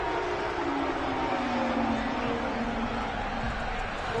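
Steady stadium crowd roar from a Madden football video game builds in a continuous dense wash as play approaches a big third down, with no clear break in the noise.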